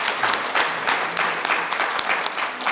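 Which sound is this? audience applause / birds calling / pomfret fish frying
audience applause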